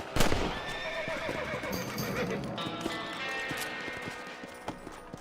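A horse whinnies loudly in the Red Dead Redemption video game, followed by a steady clip-clop of hooves with scattered in-game background sounds across the five seconds.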